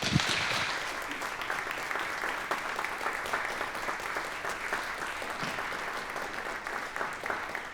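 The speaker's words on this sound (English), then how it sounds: "please give a warm applause to Bill and Soft Baroque" Audience applause at an arts festival talk, a steady dense wash of clapping from a crowd lasting throughout, fairly distant and even, with no speech over it.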